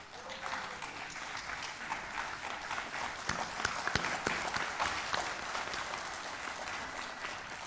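Steady crowd applause at an official ceremony in the Palais du Peuple honoring Sultan Chouzour, a dense sustained wash with several sharp, close individual claps standing out midway.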